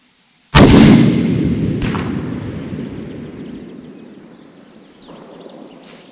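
A single loud Christensen Arms ELR .338 Lapua rifle shot cracks at close range, followed by a long rolling echo that fades over several seconds, with a second sharp report or echo shortly after the first.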